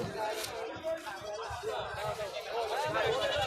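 Goats bleating at a busy goat market, several wavering cries over a constant babble of crowd chatter and nearby talking voices.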